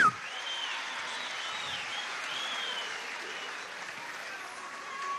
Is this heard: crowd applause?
yes